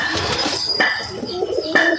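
Pigeons coo nearby, a few soft throaty calls rising and falling over about two seconds, fairly loud and close with light background noise and no talking.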